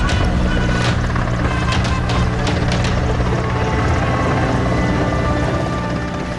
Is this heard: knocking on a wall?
no